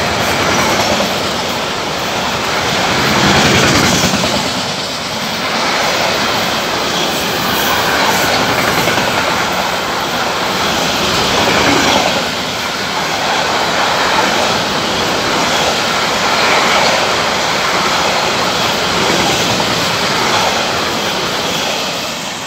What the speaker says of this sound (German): jetzt für mich den Güterzug durchschalten in Wächtersbach